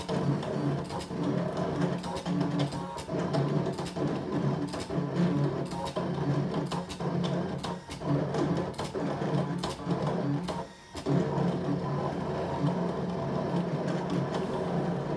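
A ScanNCut cutting machine works an embossing design into an embossing mat, a steady mechanical whirr with rapid rhythmic ticking and stepping, continuous and close, with one short pause near the end.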